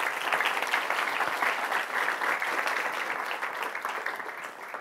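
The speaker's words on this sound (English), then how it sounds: "let's first give them a big round of applause" Sustained applause from a seated audience at an energy innovation talk, a dense, even wash of clapping that holds fairly loud for several seconds before easing slightly, with no voices over it.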